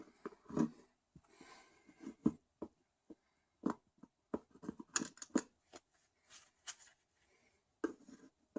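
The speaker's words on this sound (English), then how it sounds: "This plastic connection is blocking it. But I think I can just cut it off." Small snips and clicks as a plastic connection on a Vespa PX turn indicator plug is cut off, irregular close crisp cuts separated by quiet pauses.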